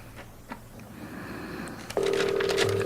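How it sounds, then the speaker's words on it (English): A telephone rings in an old-time radio theater comedy: a sustained electronic phone tone cuts in sharply about two seconds in and holds steadily to the end, following a quieter stretch of faint background sound. "Come on, John, answer your phone."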